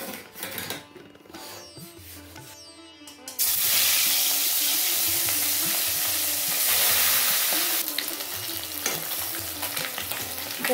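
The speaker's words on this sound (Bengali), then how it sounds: "কড়াইতে দিয়ে দিচ্ছি আমি তেলটাকে গরম করে নিয়েছি। সাদা তেলে করব আমি পুরো।" Catla fish hits hot white oil in a wok and erupts into loud, steady sizzling that fills the rest of the clip, after a quieter stretch of handling noises and light clatter at the start.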